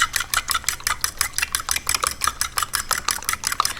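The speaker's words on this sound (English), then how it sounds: "So now we're going to mix up the eggs" Eggs being whisked briskly in a bowl, a fast, steady rhythm of light clicking strokes repeating close up for several seconds with no talking.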